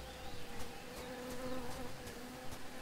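A bee buzzes steadily in the Tales of Monkey Island video game, a continuous moderate drone with faint clicks over soft ambient game sound, no one talking.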